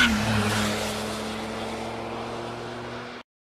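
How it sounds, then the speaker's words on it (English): A sports car engine drones in a steady tone that fades slightly, then cuts off abruptly into silence. "sports car."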